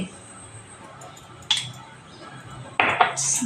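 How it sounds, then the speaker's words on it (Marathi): A metal spoon adds sugar to curd in a bowl while dahi vada is being made, giving a few sharp clinks and scrapes against the dish in short bursts between quieter moments. "साखर मी दोन तीन चमचे घालते आहे"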